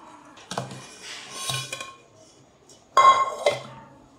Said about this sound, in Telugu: మనం తిప్పి వేరే గిన్నెలో వేద్దాం